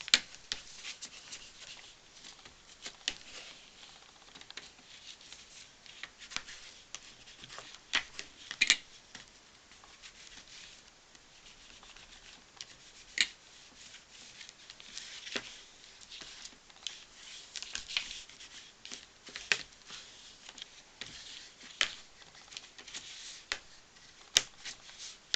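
Paper being folded and creased by hand, faint rustling with scattered sharp crinkles and taps over a long quiet stretch, no talking.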